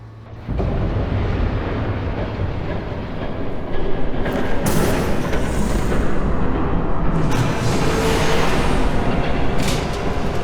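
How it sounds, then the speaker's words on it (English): A train approaches in the Batman: The Telltale Series video game, a loud continuous rumble with rattling wheels that swells and stays heavy throughout, with no talk. "There's a train coming."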